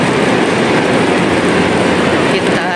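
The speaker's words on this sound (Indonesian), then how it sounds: "Sudah mau menuju kereta cepat ke Jeddah." A high-speed train bound for Jeddah fills the space with a loud, steady rushing rumble that never lets up, with voices mixed into the din.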